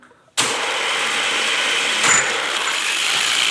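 Wrench or impact tool working loose the pulley nut on a Yamaha Warrior 1700 motorcycle, a loud continuous mechanical whirring that starts abruptly and runs steadily with a brief surge midway, no talking.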